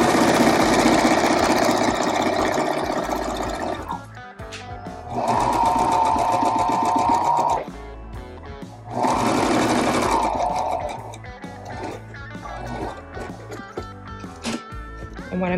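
A sewing machine double-stitches elastic onto a fabric mask, running loud and close in three steady mechanical bursts separated by short pauses and softer handling noises.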